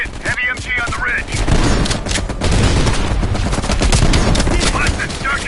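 Heavy machine gun fire in the video game Call of Duty Cold War, loud sustained rattling bursts with booming impacts and dense battlefield noise, with voices briefly heard at the start and end.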